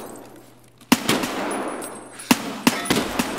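Gunshots in Escape From Tarkov, a handful of sharp separate cracks spaced irregularly over a quiet ambient background, close and fairly loud.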